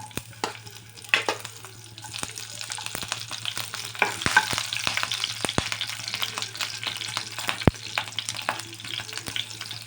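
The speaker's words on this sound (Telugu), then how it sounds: "నెక్స్ట్ పచ్చిమిర్చి వేయాలండి" Green chillies fry in two tablespoons of hot oil with tempering spices, giving a close, steady sizzle broken by sharp crackles and pops, alongside occasional stirring in the pan.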